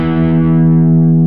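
Electric guitar played through an audio interface on a Strat cream delay preset, a sustained distorted chord ringing steadily with rich harmonics and no talking.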